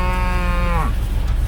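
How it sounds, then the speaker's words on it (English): A Brangus-type pasture cow lets out one loud, close moo that holds steady and then drops off at the end, heard alone. "This is a cow I bought from a friend of mine."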